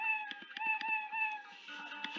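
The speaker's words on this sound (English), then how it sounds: "when I start a clone, plays start sound meow" Scratch's built-in meow sound effect triggered repeatedly by cloned sprites, a rapid series of overlapping synthetic cat meows playing in quick succession, clear and fairly loud with no talk.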